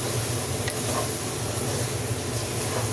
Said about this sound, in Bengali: এটাকে আমি এইভাবে আস্তে আস্তে একটু ভেজে নিই।